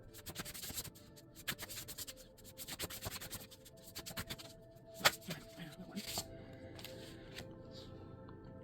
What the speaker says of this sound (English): I sort of mix up the directions and the way I'm shuffling